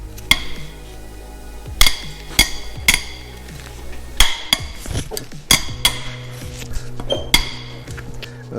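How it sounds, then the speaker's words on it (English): Cylinder head bolts being loosened on a Subaru EJ253 engine from a 2010 Impreza: a series of sharp metallic clinks and pings from wrench on bolt, spaced irregularly, close and clear, with no talking. "So we're gonna pull the head bolts out and take this head off."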